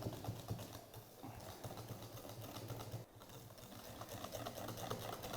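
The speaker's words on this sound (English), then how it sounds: "And then our white chocolate cream. Give that a good whisk up." White chocolate cream being whisked for a Christmas dessert, a steady rapid mechanical whirring with a rattling, clattering texture that continues evenly throughout, close and fairly loud with no talking.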